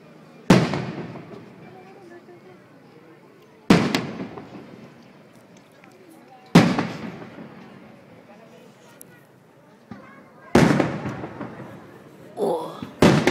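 Fireworks bursting in Italy: four or five loud, booming blasts spaced a few seconds apart, each decaying into a rumbling tail, with faint voices and a brief cheer near the end.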